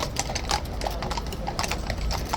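Police horses escorting the King's Troop gunners clip-clop along with steady, overlapping hoof strikes on hard ground, a busy continuous rhythm amid general outdoor noise.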